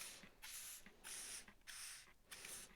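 A hand spray bottle mists a Dorset naga chilli plant in four quiet hissing bursts, each roughly half a second long and separated by short pauses.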